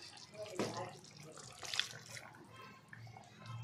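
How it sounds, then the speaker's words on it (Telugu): Water from a rinsed mixer jar poured into a home-cooked curry for a Kanuma festival meal, a short splashing pour with a couple of brief louder gushes, close by, no talking. "ఇప్పుడు మిక్సీ జార్ కడిగిన వాటర్ ఉంటుంది కదండి, దాన్ని కూడా ఒక గ్లాస్ అంతా వాటర్"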